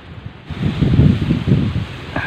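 Strong wind gusts buffet the microphone outdoors on a fishing trip in the Philippines, a roaring, rumbling rush that swells and surges after a quieter start, with leaves rustling.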